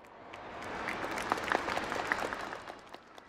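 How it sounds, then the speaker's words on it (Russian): An audience claps on a stage show, scattered sharp claps building into a moderate round of applause that swells in the middle and fades away near the end. "Давайте ему поаплодируем."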